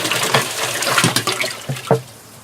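Pickling salt from a whole package dumped into a container of water for soaking a bear hide, giving a loud, continuous splashing wash with a few sharper thuds and gushes near the end.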